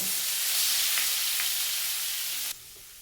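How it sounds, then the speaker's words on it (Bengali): Ginger, green chilli and fennel powder sauté in a hot pan for Bengali pea kochuri filling, a steady close hiss of sizzling spices that cuts abruptly quieter near the end, with no talking. "এবার ভালো করে মশলাটা কষিয়ে নেব"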